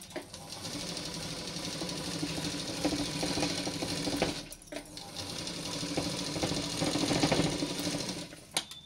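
An electric sewing machine stitches a silk langa jacket with a fast, steady rattling whir, pausing briefly midway before running on loud and close.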